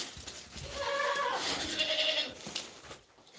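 Goats bleat close by on a rainy day, a few wavering calls overlapping in the middle, with soft rustling and breathing around them.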